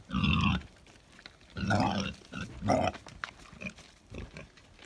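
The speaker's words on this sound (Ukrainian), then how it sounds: "А кабан. Так, свиночка, проходь." A Vietnamese pot-bellied and Hungarian Mangalica crossbreed boar grunts several times nearby in short, rough bursts separated by brief pauses, with no one speaking.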